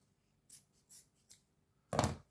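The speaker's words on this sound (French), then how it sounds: "Je vais en couper un bout." Scissors snip through a piece of material for a homemade album storage box: three light, quick snips spaced apart, then one louder, fuller cut, all close up in a quiet room.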